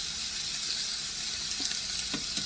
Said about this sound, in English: Now, steaks don't take long to cook.